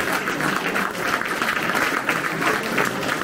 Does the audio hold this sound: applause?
yes